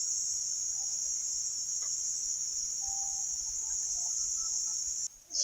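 Insects drone in a steady high-pitched buzz that runs unbroken and fairly loud through the whole stretch, cutting off briefly near the end, with faint scattered chirps beneath.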